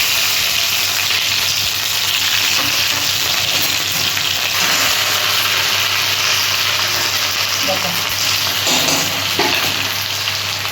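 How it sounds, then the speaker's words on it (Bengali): Whole garam masala and ginger paste fry in hot oil in a pan with a steady, loud sizzle and occasional stirring scrapes, continuous throughout. "ফোড়নটা একটু ভাজা ভাজা হলে তারপর আমি মশলা দেব। তারপর আমি আদা বাটাটা দিয়ে দিলাম।"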